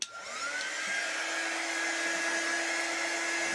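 A dryer blowing on a chalk craft project, a steady close whirring airflow hum that spins up at the start and holds constant throughout, with no talking.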